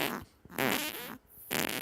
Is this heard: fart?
yes